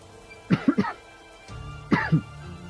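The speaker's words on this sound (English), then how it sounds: "stupid coughing" A person coughs in two short bursts, a triple hack followed by a double one, close and alone.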